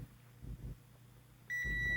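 A meter set to continuity gives a steady high electronic beep that starts partway through and holds to the end, close and clear, while testing the plug of a 1924 Westinghouse antique fan; faint handling noises come before it.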